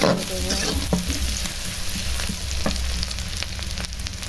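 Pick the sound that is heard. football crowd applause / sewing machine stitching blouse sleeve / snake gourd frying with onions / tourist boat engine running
snake gourd frying with onions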